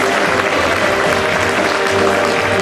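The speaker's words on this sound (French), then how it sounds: "Merci beaucoup pour les applaudir." Audience applause at a casino show finale, a steady dense wash of clapping from a crowd filling the whole stretch without a break, with no talk over it.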